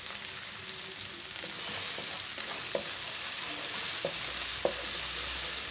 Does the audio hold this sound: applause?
no